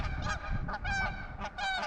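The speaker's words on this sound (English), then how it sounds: "Some geese going down the river right now." Several geese honk repeatedly from a flock heading down a river, their calls loud and overlapping in uneven bursts against a low outdoor rumble, with no talking.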